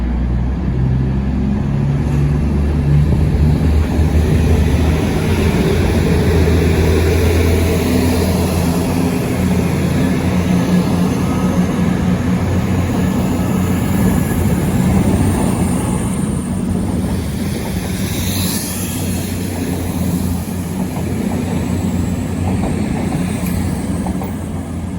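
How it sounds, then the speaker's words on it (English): A Cross Country Class 220 diesel train pulls out of Cheltenham Spa station, its engines droning low and steady close by as it gradually accelerates away, with a faint hiss and rumble throughout. "going out now is the 1440 Cross Country service to Manchester Piccadilly from Bristol Temple Meads"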